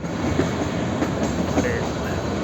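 The Kalka–Shimla toy train, pulled by diesel locomotives, runs along a curving mountain track, heard from inside a carriage as a steady loud rumble with faint rhythmic clicks and light wheel squeal.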